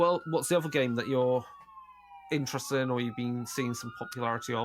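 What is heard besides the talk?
emergency vehicle sirens going by outside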